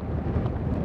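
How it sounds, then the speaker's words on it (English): Steady, heavy winter mountain wind on Emerald Lake Trail, Rocky Mountain National Park, buffeting the microphone, a dense low rumble that holds throughout with no pauses. "Really, really windy."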